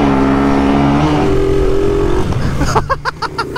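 A car drives past at low speed, its engine a steady low hum under continuous road noise, with a brief burst of rhythmic higher knocking near the end.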